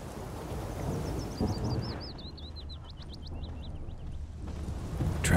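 Thunderstorm and rain in the video game The Witcher 3: Wild Hunt, set in White Orchard: low rolling thunder under a steady rain wash, with a bird chirping faintly above the storm.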